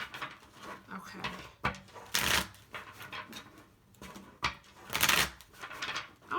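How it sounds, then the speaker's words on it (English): Tarot cards are shuffled by hand in a long session of riffling and bridging, with loud papery bursts at intervals between softer rustling, close up and with no talk over it. "something told me, like, shuffle a lot for Leo"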